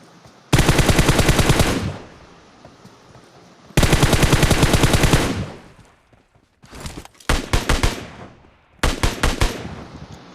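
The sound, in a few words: M4 rifle gunfire in the video game PUBG Mobile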